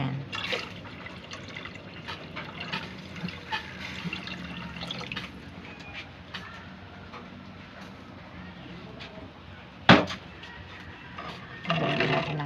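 Water poured from a 1-liter kettle into a cooking pot, a continuous splashing, trickling stream that runs for several seconds, with a sharp clink of metal midway and more splashing at the end.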